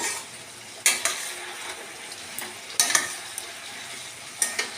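Chicken with crushed black pepper and chili flakes sizzles in a pan while a spoon scrapes through it in three distinct bursts, each followed by quieter clinks against the pan.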